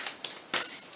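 Quick riffling bursts of tarot cards being shuffled, two short crisp flurries within a second.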